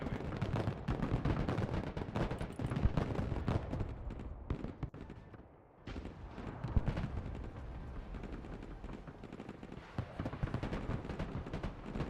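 Mortar fire in the video game Broken Arrow on campaign at hardest difficulty, a dense, loud barrage of booming blasts and crackling gunfire rolling almost continuously, with a brief lull midway.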